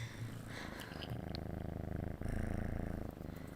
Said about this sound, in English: She's purring pretty loudly now.